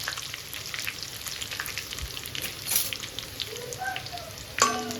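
Curry leaves hit hot oil, which hisses and spatters steadily with crackling pops, a close sizzle that flares briefly near the end.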